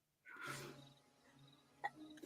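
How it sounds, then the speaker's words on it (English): A single big human sneeze bursts out loud and close, with a sharp onset and a hiss trailing behind it, followed by a few faint sniffs and small clicks in a quiet room. "That was a big sneeze."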